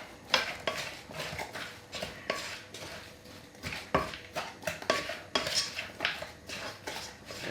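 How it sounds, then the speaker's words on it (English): Metal spoon stirring chopped onions, cow foot, bone-in goat meat and Maggi seasoning cubes in a slightly too small pot, giving steady repeated scraping and clinking strokes close up, with no talking. "So you just have to now just mix it all up."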